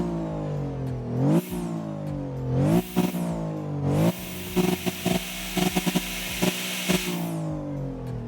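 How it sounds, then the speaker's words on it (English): A modded drag car's engine in the video game Motor Town starts and revs repeatedly, climbing in sharp sweeps to a high scream, dropping back, then chattering through rapid on-off bursts, loud and close with no talk. "So let's start the car, give a good listen to it."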